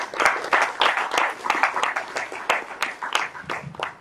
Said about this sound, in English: This is applause for sponsors.